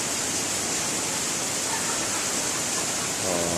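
A river, called enchanted, flowing steadily through a healing ritual, a constant broadband rush close by and fairly loud, with a brief faint voice near the end.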